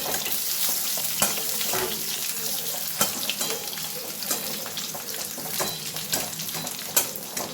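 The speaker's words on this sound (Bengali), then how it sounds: "আলুগুলোকে দিয়ে দিলাম" Soaked potatoes dropped into a hot pan of oil with green chillies hiss into a steady, close sizzle, with scattered clinks and scrapes as they settle and are stirred.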